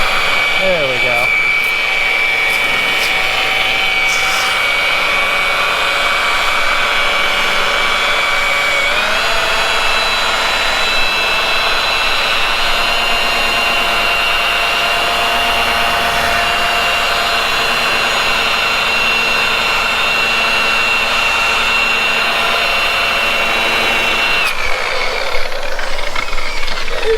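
A rotary polisher buffs badly worn, trashed car paint during a DIY restoration, giving a loud, steady whine that runs close and continuous for nearly the whole stretch before cutting off near the end, with no talking over it.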